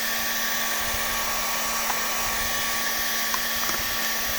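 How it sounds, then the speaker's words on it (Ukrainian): A hair dryer blows with a steady, loud whirring hum, running continuously without pause. "беремо фен, вмикаємо і починаємо гріти"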